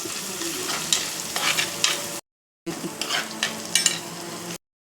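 Kudampuli (Malabar tamarind) and green chillies frying in oil for a tuna fish curry with coconut milk, a close hiss of sizzling with stirring scrapes, briefly cut to silence mid-way before resuming.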